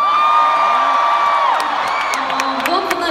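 A live concert audience cheers and screams loudly and steadily, with high whoops and shrieks rising over a dense, continuous crowd roar.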